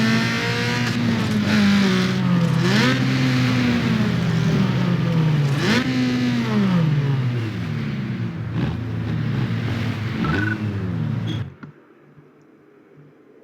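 Car engine in Need For Speed Underground 2 revving hard while drifting, with repeated rising and falling revs and tire squeal, loud and close, cutting off abruptly near the end.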